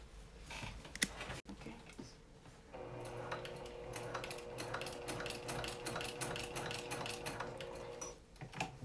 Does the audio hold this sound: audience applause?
no